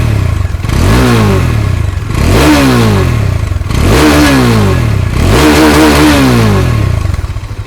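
A Bajaj Dominar 400 motorcycle engine revs close and loud, with four repeated throttle blips that rise and fall in pitch over a rough, throbbing idle.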